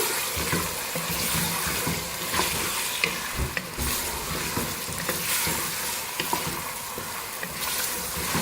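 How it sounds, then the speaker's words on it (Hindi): Beef sizzles and fries steadily with garlic ginger paste in a hot pan, with repeated scraping and stirring strokes throughout, close and fairly loud. "लहसुन अदरक के पेस्ट के साथ गोश्त को अच्छी तरह से भूनेंगे।"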